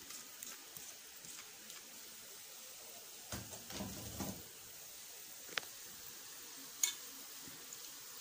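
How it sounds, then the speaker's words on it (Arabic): Pasta being stirred in a pan, a soft sizzling bed with a few scraping knocks of the utensil, faint and close, with no talking. "وببدأ اقلب كده في المكرونة"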